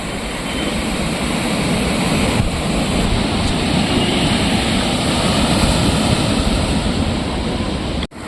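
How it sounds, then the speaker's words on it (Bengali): Ocean waves break on the shore beside the Shankarpur marine drive, a loud, broad, continuous wash of surf that fills the whole stretch with a slight swell midway, no voices. "ঢেউ আলাদাই লেভেলে আসছে।"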